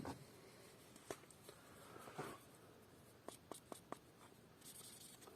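A Sharpie marker scribbling across a Japanese kanna plane iron, faint close squeaky strokes followed by several quick short dabs, quiet and alone.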